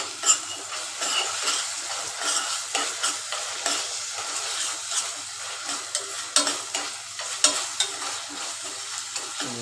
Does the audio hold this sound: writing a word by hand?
no